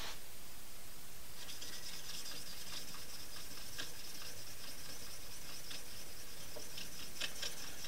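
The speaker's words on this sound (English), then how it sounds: "I'm going to finish polishing with the black Arkansas, which is going to be glassier yet." Scissors polished on a black Arkansas sharpening stone give a soft, continuous scraping and rubbing with faint repeated strokes, close and quiet, with no talk.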